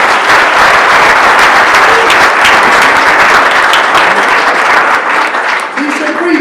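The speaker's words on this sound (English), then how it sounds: "let's give these gentlemen a round of applause" Audience applause at a Rochester Board of Education business meeting, steady loud clapping from a crowd lasting throughout, with faint voices underneath.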